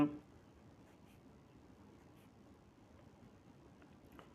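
Pen writing on paper while a maths problem is worked out in a notebook, a quiet, steady scratching that runs throughout at close range.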